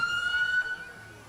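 An ambulance siren wails during a Santa Claus parade, a steady high electronic tone rising above crowd noise and fading partway through, with talk underneath.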